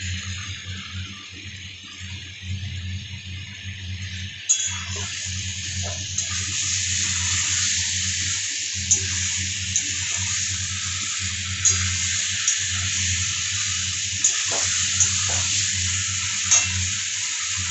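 Fried pointed gourd and potato go into cooking masala for a prawn curry; the steady sizzle swells louder once they land, with occasional light clinks of stirring against the pan throughout.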